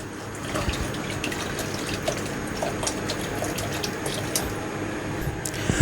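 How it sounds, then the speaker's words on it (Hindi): Rice being washed in a bowl of water for chicken dum biryani, a steady close sloshing and swirling of grains and liquid with faint drips and splashes, continuous and moderately loud, no talking. "एक दफ़ा और अच्छे से वॉश कर लेंगे।"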